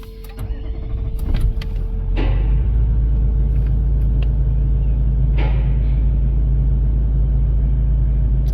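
The V8 engine of a 2012 Toyota Land Cruiser cranks and catches after a few clicks, then settles into a deep, steady idle rumble for the rest of the clip, heard close by.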